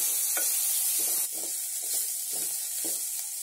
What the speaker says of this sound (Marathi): असे सर्व तेलामध्ये टाकून शिजवून घ्यायचे आहेत.